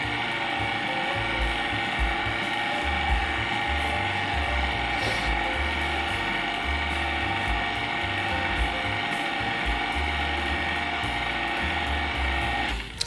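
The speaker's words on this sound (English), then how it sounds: "Mix on low speed." Electric stand mixer running on low speed, setting 2, blending flour into pound cake batter, a steady continuous mechanical whir with rhythmic clicking, close and even throughout, no talking.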